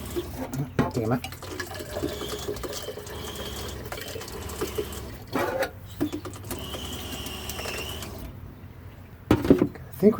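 A faucet on an RV sink runs water, starting and stopping in short bursts and thin streams, with people talking nearby throughout.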